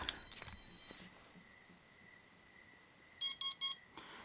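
An FPV drone's electronic speed controllers give a short burst of startup tones, then a long steady whine, followed by three loud electronic beeps in quick succession.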